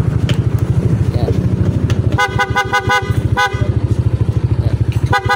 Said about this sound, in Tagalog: Ito yung stock horn, wala sang passing.